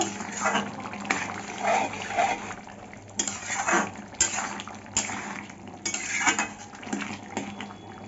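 A ladle stirs green jackfruit curry with ground garam masala in a pan, giving repeated close clinks and scrapes of utensil on metal in uneven bursts over a wet, bubbling background.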